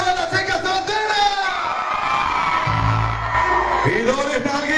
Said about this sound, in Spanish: quiero ver el grito de todas las chicas solteras